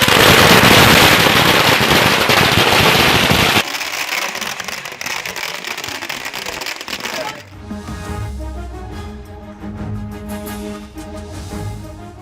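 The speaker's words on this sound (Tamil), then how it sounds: "விராலிமலையில் அதிமுகவினர் பட்டாசு வெடித்து கொண்டாட்டம்" Firecrackers burst at an AIADMK political celebration in Viralimalai, dense rapid crackling volleys that run continuously and loudly, shifting into sharper scattered pops against a busy outdoor background.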